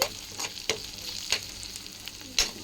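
Ridge gourd fries in a pan with a steady close sizzle, broken by several sharp stirring scrapes at irregular intervals; no one speaks.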